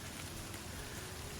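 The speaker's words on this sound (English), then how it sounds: "It's raining." Rain falls outdoors in cold, windy weather on an off-trail hike, a faint, even patter and hiss with no voices.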